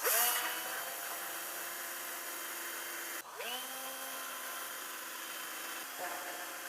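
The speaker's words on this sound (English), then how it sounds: "I'm gonna drill the holes exactly here" A power drill bores holes into a wall while a security camera is mounted, a loud close continuous whine that briefly cuts out midway and then resumes steadily.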